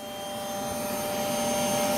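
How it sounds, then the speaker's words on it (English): A vacuum cleaner runs aboard the space station, giving a steady, moderately loud whir with a faint high whine that slowly swells over the whole stretch. "the vacuum cleaner produces a lot of noise. You can hear it, but this is what we have."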